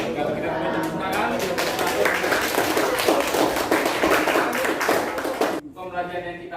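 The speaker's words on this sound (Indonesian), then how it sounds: "Kalau kita punya tepuk tangan" Applause from an audience at the close of a school class discussion, dense clapping that runs steadily for several seconds, with voices mixed in, before it cuts off abruptly.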